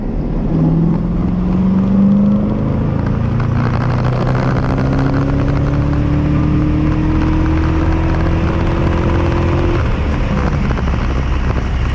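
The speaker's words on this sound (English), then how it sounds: "So again, third gear pull from 2000 RPM." A car with a Quadrajet carburetor pulls hard in third gear from 2000 RPM, its engine note rising steadily and smoothly as it accelerates, loud and constant, heard from inside the car with no talking.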